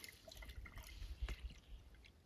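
Water poured into a Joule electric camping kettle, heard as a faint, brief trickle with light dripping and no talk.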